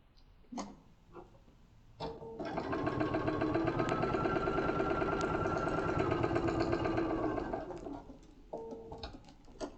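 A sewing machine runs steadily for several seconds as it bastes fabric into place on a hanging car organiser, its motor hum rising and holding before stopping, with brief handling sounds before and after.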